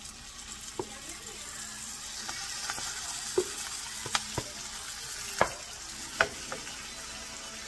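Marinated pork sizzling in a pot for Kapampangan pork asado, a moderate steady hiss punctuated by scattered sharp clinks and scrapes of a utensil against the pot.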